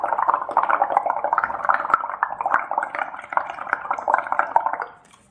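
Someone blowing through a straw into a dish soap and water mixture to whip up froth, a close, continuous bubbling gurgle with fizzing pops that fades out at the end.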